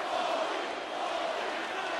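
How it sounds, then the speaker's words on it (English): A wrestling arena crowd at a 2001 WWF Invasion event chants for Mick Foley, a dense, loud roar of many voices sustained without a break. "The crowd chanting for WWF legend Mick Foley."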